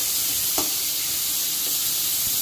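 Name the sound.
papaya slices frying and being stirred in a pan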